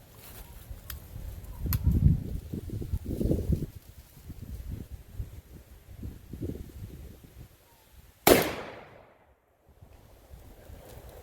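A 12-gauge AGC Diablo double-barrel black powder gun fires a single round ball on a 40-grain FFG charge outdoors, one sharp loud blast late on that fades quickly, after a stretch of gusty wind noise.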